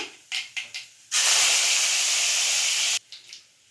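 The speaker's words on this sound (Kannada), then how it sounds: "ಅದು ಸ್ವಲ್ಪ ಕರಿಬೇವು ಸೊಪ್ಪನ್ನು ಹಾಕೋಬಿಡೋಣ" Curry leaves dropped into hot tempering oil for a Karnataka-style greens palya burst into a loud, steady sizzling hiss for about two seconds, framed by faint clatter before and after.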